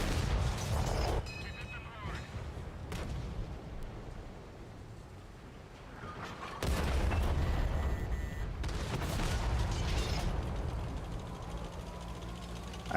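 Artillery fire in a tank video game featuring the M48A2 with a 120mm gun, with heavy booms at intervals and a sustained rumbling barrage, while a player talks over the battle noise.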